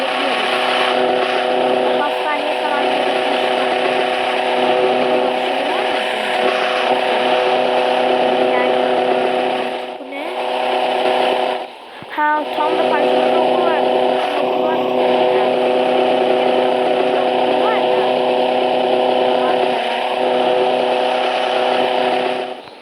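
A motorcycle ridden in the video game Roblox, its engine giving a steady, loud, buzzing drone that holds almost unbroken, with one brief dip and stutter partway through.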